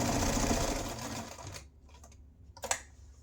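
A sewing machine runs one continuous stitch on a wand holster, a steady close whir for about a second and a half, then stops, followed by a few small clicks.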